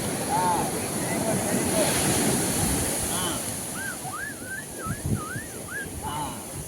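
Sea waves washing in steadily on a sandy beach at Koduru, a continuous broad surf roar with wind buffeting the microphone and occasional bird-like chirps above it.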